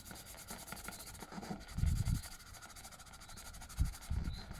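Motocross enduro boot being scrubbed with an abrasive cleaner, soft close rubbing strokes in short bursts, with a few louder scrapes standing out against a quiet hiss.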